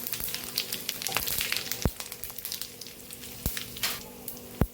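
Mustard seeds, cumin, white sesame seeds and curry leaves sizzle in hot oil for a dhokla tempering, a steady crackling hiss broken by a few sharp pops and spits, close and fairly loud with no talking.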